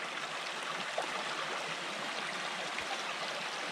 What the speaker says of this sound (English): But this little stream is definitely pretty.